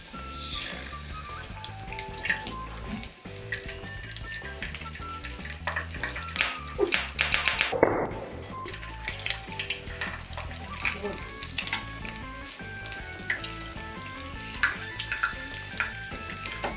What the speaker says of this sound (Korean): 이제 튀겨줄게요.